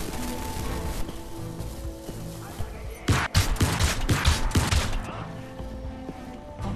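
Rapid bursts of automatic gunfire crackle through the Crysis shooter game, dense volleys clustering in the middle and tapering off, loud and close.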